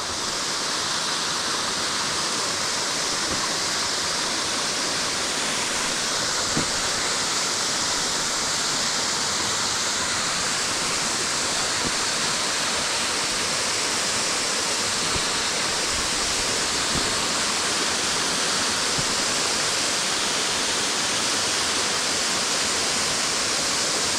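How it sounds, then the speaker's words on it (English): Steady, full roar of Wolf Clook waterfall in Craik Forest, Scotland, a dense continuous rush of falling water heard up close, with no voices over it. "here we are at Wolf Clook waterfall in CRAIK Forest, Scotland"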